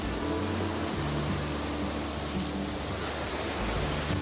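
Tom Ghyll, a Lake District stream beside a walking path, rushing in a steady broad hiss of flowing water throughout, with faint low rumbles underneath.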